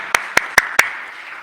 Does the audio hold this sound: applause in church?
yes